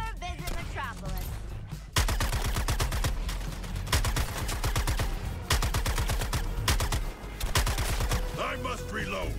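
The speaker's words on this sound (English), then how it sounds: "Shoot the damn things." Sustained automatic gunfire in the video game Suicide Squad: Kill the Justice League, loud rapid bursts firing almost continuously with brief pauses, mixed with game music and voices.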